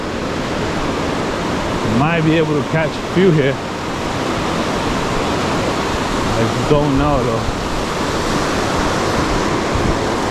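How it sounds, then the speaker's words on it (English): Steady broadband rush of flowing water fills the whole clip, with someone speaking briefly over it twice. "There's a ton of water rushing."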